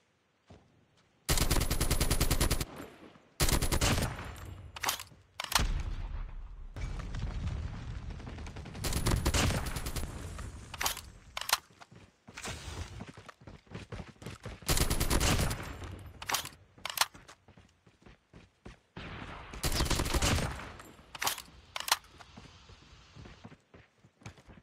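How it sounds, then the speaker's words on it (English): Several players fire at once in an FPS video game, producing long loud machine-gun bursts and rapid volleys with short gaps, interspersed with single shots and quieter clicks throughout. "Six people are shooting at me."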